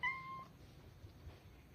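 A cat gives one short, clear meow right at the start, followed by a quiet room.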